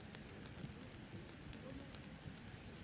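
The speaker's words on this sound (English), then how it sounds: "Perhaps because of the rain, you can now start to hear it falling a little bit more heavily." Steady rain falling at an outdoor archery final between Indonesia and the USA, a constant hiss of drops on surfaces with faint scattered taps and a low rumble of ambient noise, continuous throughout.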